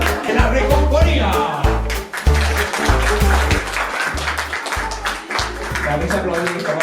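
An audience at a magic show claps and cheers loudly, with steady applause running throughout while a performer's voice and music-like thumps come and go.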